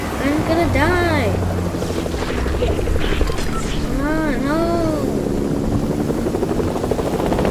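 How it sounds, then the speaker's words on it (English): A Fortnite helicopter flies steadily with continuous rotor thrum and looping sweeps through the whole stretch, while players talk over it and game effects pop in and out. "bring the helicopters into the storm"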